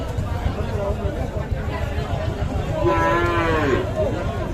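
A calf gives a drawn-out low moo toward the end, rising above a busy crowd of voices and livestock noise at a cattle market.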